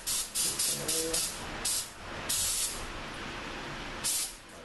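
Spray can squirting brake cleaner onto a caliper during a brake pad job on a 2014 Kia Forte: several short hissing bursts in quick succession, then a longer blast and a final burst, close and fairly loud with no talking.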